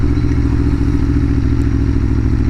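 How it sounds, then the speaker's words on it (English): An Aprilia motorcycle engine runs at a steady idle-to-cruise pace, a loud, close, continuous low mechanical drone with a throbbing pulse and no talking over it. "the Aprilia just has that beautiful motor noise"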